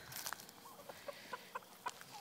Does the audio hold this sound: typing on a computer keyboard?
no